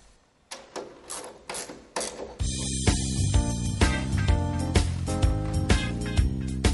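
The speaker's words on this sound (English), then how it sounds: "The unit is now secured by closing the locking brackets." Locking brackets on a Siemens LX busbar tap-off unit are closed, a string of close metallic clicks and ratcheting snaps followed by a denser run of sharp mechanical clatter, with no speech.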